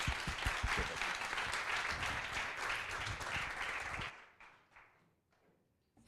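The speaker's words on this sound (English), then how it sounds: "So a round of applause, please, for Desiree." Audience applause at a symposium, a full round of clapping that holds steady for about four seconds, then quickly dies away to a few scattered claps and near silence.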